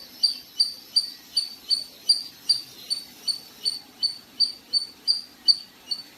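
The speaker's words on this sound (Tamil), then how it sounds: "கேட்டுச்சு அணில் கத்துறது." A squirrel gives repeated high, sharp chirping calls at a steady rhythm, about two or three per second, fairly close and alone.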